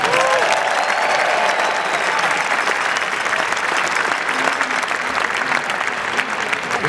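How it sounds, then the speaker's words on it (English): Sustained applause rolls through a hockey arena crowd welcoming Martin Brodeur's family, a broad, even wash of clapping that holds steady without a break. "Please give them a round of applause."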